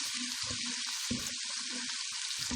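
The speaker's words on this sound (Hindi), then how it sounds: "अदरक लहसुन प्याज हमारे फ्राई हो चुके हैं, गोल्डन होने लगे" A steady, close hiss of ginger, garlic and onion frying golden in hot oil, with a few soft clinks and stirring scrapes underneath.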